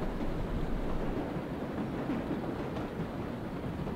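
Subway train rumble in the World of Subways game, a steady low broadband roar of wheels and motion, loud and continuous with no speech over it.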